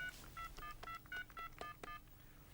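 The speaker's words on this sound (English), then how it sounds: "To make a call, you dial the number." A telephone number being dialed, about nine crisp DTMF keypad tones in a quick, slightly uneven sequence, close and clear with quiet gaps between beeps.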